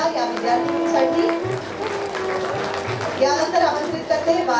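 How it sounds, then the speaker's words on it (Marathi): Applause for a prize-winning student at a sports day prize ceremony, a steady wash of clapping from a hall audience held for several seconds over faint background music, with a brief swell near the end. "जोरदार टाळ्या या विद्यार्थिनीसाठी"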